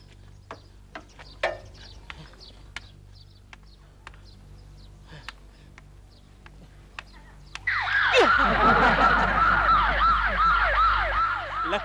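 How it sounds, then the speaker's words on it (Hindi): An ambulance siren wails loudly and close by, rising in repeated sweeping tones after a stretch of quiet scattered clicks and soft background sounds. "लगता है एम्बुलेंस थी।"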